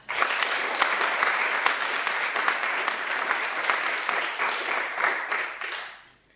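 A conference audience applauds for its keynote speakers: dense, sustained clapping from a crowd of many hands, steady and loud for about six seconds before trailing off at the end.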